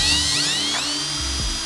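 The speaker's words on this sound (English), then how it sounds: "This is a stepped drill bit to help me drill some perfect holes in the sheet metal." A stepped drill bit whines at high pitch as it bores through salvaged sheet metal roofing, rising and shifting in a short close burst.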